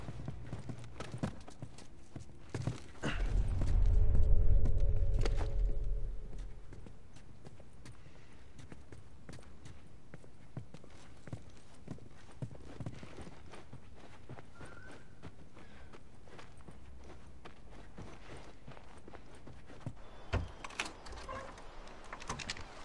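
Horse hooves clip-clop in The Last of Us near Jackson, a steady walking rhythm of soft thuds that swells louder early on, then settles into quieter, irregular steps under low ambient noise.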